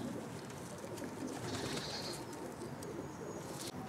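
Racing pigeons cooing in a loft, soft low coos repeating over a steady rustling background, close and fairly quiet with no talk.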